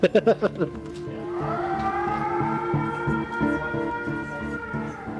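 A voice imitates a wailing police siren, rising and falling in a long sustained tone after a few short vocal bursts.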